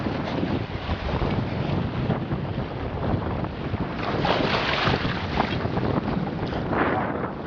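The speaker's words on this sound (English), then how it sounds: "Wind's at about 10 knots. It's blowing 15 to 20 miles an hour right now." Wind buffets a small boat on San Francisco Bay during fall striped bass fishing, a loud, steady, gusty rush across the microphone mixed with water and hull noise, swelling slightly midway.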